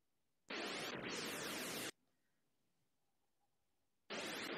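Bursts of broadband noise-like acoustic texture, used as a stimulus paired with moving dot clouds, play loud for about a second and a half, fall to near silence, then return.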